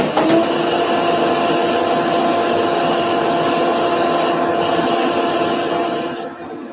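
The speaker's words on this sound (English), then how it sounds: "We're going to turn the dust extractor back on again." A dust extractor in a woodworking shop roars with a steady, loud broadband hum, steady for most of the clip before fading slightly at the end.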